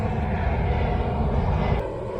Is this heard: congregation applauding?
no